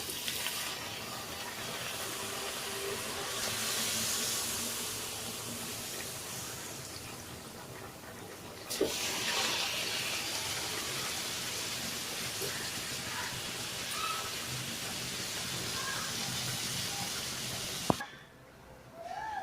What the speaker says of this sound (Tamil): இப்போ எண்ணெய் காஞ்சிடுச்சு. அது கடாயில் போட்டுக்கலாம் திரட்டின பூரி.